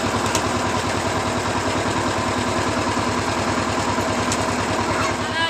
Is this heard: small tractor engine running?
yes